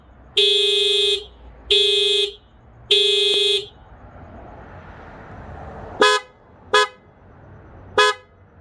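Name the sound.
Honda Clarity car horn honking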